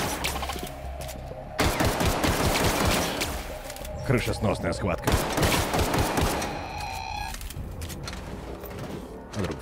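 Bursts of rapid synthetic gunfire in The Outer Worlds crackle in quick volleys over a loud game soundtrack, while someone talks over the action.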